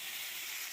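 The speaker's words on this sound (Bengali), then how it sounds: "এবার 5 ফোড়ন, শুকনো লঙ্কা, তেজপাতা দিয়ে আমগুলো দিয়ে দেবো।" Green mango pieces fry in hot oil with five-spice, dried red chilli and bay leaf, giving a faint, steady hiss of sizzling throughout.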